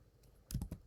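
A few quick keystrokes on a computer keyboard: three soft, close taps in rapid succession after a brief near-silence.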